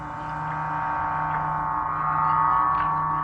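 Lower, slower TARDIS door sound from the First Doctor serial Planet of Giants: a sustained droning electronic hum that swells slightly toward the end, with a couple of faint soft pulses and no speech.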